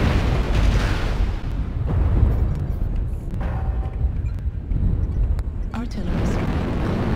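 Artillery explosions in MechWarrior Online crash in as dense, rumbling booms that roll continuously and loudly, with a synthetic cockpit voice speaking over them.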